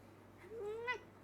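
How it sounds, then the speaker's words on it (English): Pet cat giving a single short meow near a computer desk, faint against a quiet room, rising then breaking into a brief higher squeak at the end. "That was a cat interfering."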